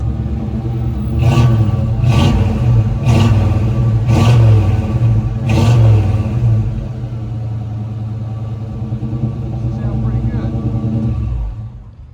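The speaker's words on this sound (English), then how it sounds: "We'll try to go in here and hit the gas." A GMC Sierra Classic squarebody farm truck engine revs hard in five rising bursts, then settles into a steady idle rumble, recorded up close.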